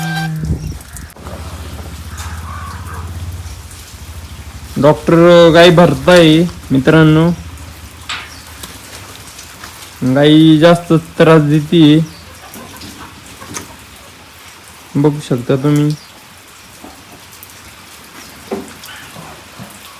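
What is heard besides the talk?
heavy rain falling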